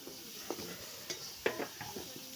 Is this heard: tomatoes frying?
yes